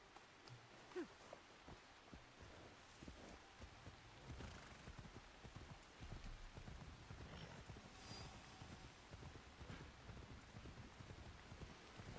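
Horse hooves clop in an Assassin's Creed game set in Japan, a quiet, irregular run of thuds mixed with a rain-like patter, faint and low throughout.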